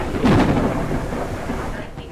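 Thunder from a storm in the video game Forever Skies rumbles loud and close, a heavy booming roll over steady rain that slowly fades.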